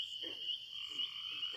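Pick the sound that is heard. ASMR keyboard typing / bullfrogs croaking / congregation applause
bullfrogs croaking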